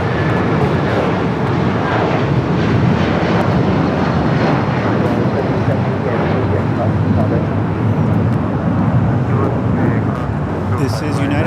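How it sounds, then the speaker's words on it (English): A 31-year-old United Boeing 757 airliner departs for Newark, its engines a loud, steady, broadband roar that fills the whole stretch without letup. "This is United Flight 1981 going back to Newark on a Boeing 757, 31 years old."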